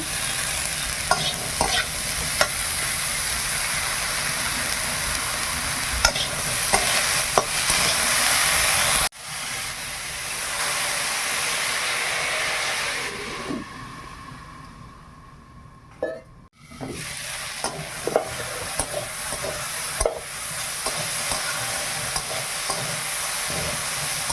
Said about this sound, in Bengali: খুব সুন্দর করে ভেজে নিয়েছি।